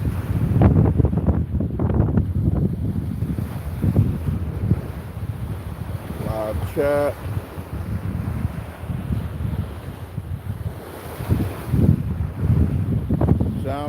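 Ocean water and wind at Fort Lauderdale beach at night, with steady gusty wind buffeting the microphone over a continuous wash of surf and a brief spoken word.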